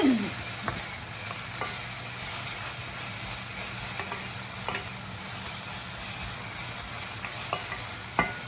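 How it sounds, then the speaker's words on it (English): Pork belly fried rice stirred in a hot pan, a steady sizzle running throughout with a few scattered scraping clicks of the utensil against the pan. "I'm just going to stir it up."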